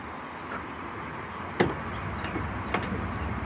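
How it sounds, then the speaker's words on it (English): The soft-opening tailgate of a 2023 Ford F-150 Limited lowering under damping, a quiet steady hum with a few sharp clicks and a clunk, close and faint. "Soft opening tailgate."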